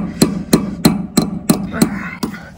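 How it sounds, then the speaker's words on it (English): A hammer knocks a fitting into place while installing a shade sail, seven sharp metallic taps at an even, steady pace, close and loud. "I'm gonna grab my hammer and just knock that in."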